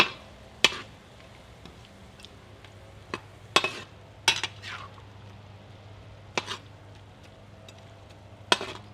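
Food being stirred in a pan on a FIREDISC outdoor cooker: sparse, sharp scrapes and clinks of a utensil against metal over a low, faint background hum, separated by quiet pauses.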